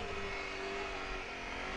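A Honda CRF250 Rally motorcycle cruising solo along a road near Rotomā, a steady engine drone with wind noise holding at an even level throughout, with no voices.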